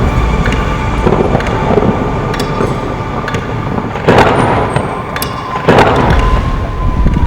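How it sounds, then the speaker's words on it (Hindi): Thunder rumbles in repeated bursts amid strong, steady wind gusts buffeting the microphone ahead of rain, loud and continuous with sharper cracks near the end. "बादल लगातार गरज रहे हैं"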